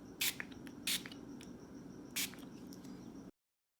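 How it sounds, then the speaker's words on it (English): Three short, sharp hissing sprays of reel cleaner into a Shimano Stradic Ci4 fishing reel, close by, with pauses between them over a low background hum. "we're going to go ahead and spray some Real Clean in here"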